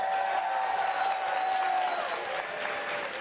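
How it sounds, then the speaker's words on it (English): Audience applause during a game's 10th anniversary livestream, a steady dense wash of many hands clapping at moderate distance, even in level throughout with a faint underlying tone. "So give yourselves a round of applause for that."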